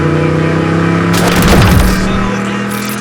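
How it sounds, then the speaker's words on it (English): A 1997 Pontiac Firehawk with a 5.7-litre V8 and automatic transmission, 35,000 miles, rumbles steadily on a test drive, swelling into a loud revving surge midway before settling back to a low drone. "Let's take it for a test drive."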